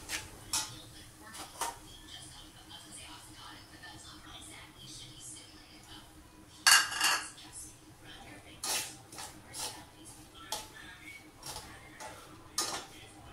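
Two cups of Bombay rava are roasted in a kadai over a low flame. A spatula scrapes and clinks against the pan in short, irregular bursts over a quiet background.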